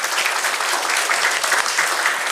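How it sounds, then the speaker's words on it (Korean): Dense, continuous applause from an audience at a high school youth forum, a loud even wash of many hands clapping at once. "여러분 한번 박수 한번 부탁드리겠습니다."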